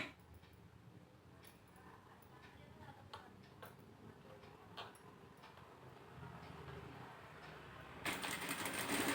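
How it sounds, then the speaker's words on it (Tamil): A sewing machine stitches a patchwork border with a faint, steady mechanical ticking. Soft background voices may be present, and a louder noise swells near the end. "கரெக்டாக அந்த பார்டரை வந்து பார்த்து வச்சு தைங்க டிசைனு"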